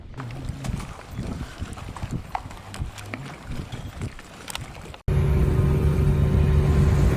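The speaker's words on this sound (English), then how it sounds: "it looks like we're going to be motoring all the way up" A sailboat under engine power on open water, with a steady motor drone mixed with wind buffeting the microphone and water noise; the sound shifts abruptly to a louder, steadier engine roar near the end.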